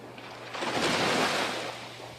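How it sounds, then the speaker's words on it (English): Surf crashing onto the Pinellas shoreline, a single broad wash of water that swells to a roaring peak mid-way and then recedes into a softer hiss. "Waves crashing onto Pinellas shores may sound inviting"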